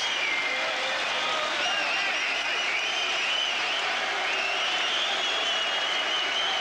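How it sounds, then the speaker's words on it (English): A boxing arena crowd applauds victor Tony Sibson with dense, sustained clapping and cheering that stays loud and even throughout, with a commentator talking faintly beneath it. "The crowd are absolutely rising to him here"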